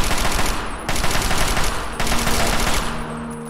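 Rapid automatic gunfire from an assault rifle in Fallout 3 rattles in three loud, dense bursts with brief gaps between them.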